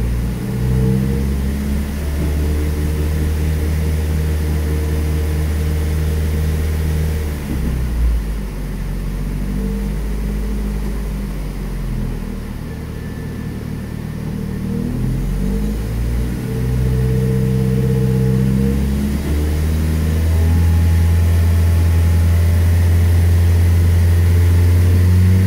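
A car engine running during a rusEfi variable valve timing test, holding a steady hum with throttle rises and dips, sagging near the middle and then revving higher toward the end, with no voices.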